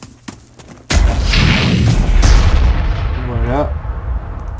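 Heavy battlefield gunfire and booming impacts from the strategy game Warhammer 40,000: Armageddon erupt suddenly and roll on loudly for several seconds, fading slightly toward the end, with a voice faintly underneath.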